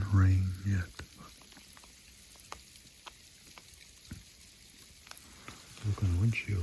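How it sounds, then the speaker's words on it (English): Icy rain drops tap on a car windshield in a rapid, irregular patter of small ticks, close and fairly faint, with louder rumbles at the start and end. "It is getting some drops on the windshield."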